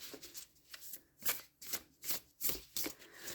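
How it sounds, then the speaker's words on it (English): Playing cards being shuffled by hand, in a series of crisp riffling bursts roughly every half second, close and fairly quiet with no voices. "I'm used to shuffling the other way."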